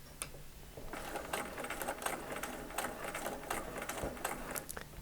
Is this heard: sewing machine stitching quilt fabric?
yes